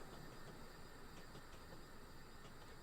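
Steady rumble and hiss of a passing train in a railway simulator game on a British branch line, continuous and even throughout with no voices.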